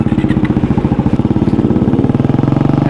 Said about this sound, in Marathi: फर्स्ट टाइम तो एक सुपर बाईक चालवतोय